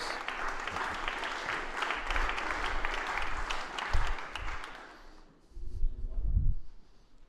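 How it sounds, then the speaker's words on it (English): An audience claps for a speaker being welcomed onstage at a tech conference on openness, a dense steady burst of applause that thins out toward the end as a few low thumps and rustles remain. "Round of applause"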